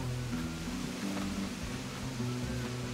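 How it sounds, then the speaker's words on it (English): A waterfall in the video game Animal Crossing rushes steadily as dense, continuous broadband water noise, with a faint low melodic game tune running beneath it and no voices. "The only thing I don't like about this is that the waterfalls are so loud."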